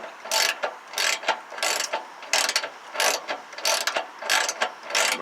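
Rapid bursts of a hand ratchet cranking a heater guard bolt loose on a Nissan Sentra, repeated clicking strokes in a steady rhythm, close and fairly loud with short pauses between pulls.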